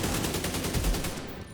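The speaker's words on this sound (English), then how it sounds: "I guess this guy can just tear me up with his infinite SMG." Rapid SMG gunfire in The Division 2, a fast steady automatic burst running through the whole short stretch, loud and close with dense overlapping shots and no talk.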